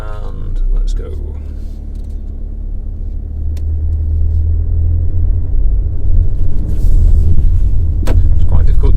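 Car pulling away and accelerating, driven by hand with a Ghost Ring accelerator ring behind the steering wheel; steady low engine rumble builds gradually, close and continuous, with talk over it.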